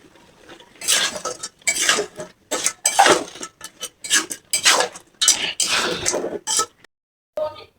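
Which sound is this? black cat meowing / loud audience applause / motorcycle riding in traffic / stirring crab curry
stirring crab curry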